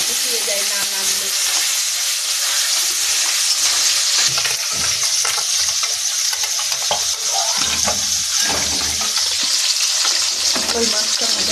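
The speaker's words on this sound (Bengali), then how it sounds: "এবারে ভেজে নেবো কই মাছটা" Koi fish fry in hot mustard oil with a loud, continuous close-up sizzle and hiss, crackling and spitting steadily with occasional stirring sounds.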